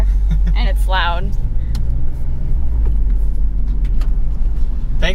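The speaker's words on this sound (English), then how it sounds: "I mean, we're in the car and it's loud." Loud, deep engine rumble heard from inside a 2020 Mazda Miata, constant and throbbing, with a brief voice over it near the start.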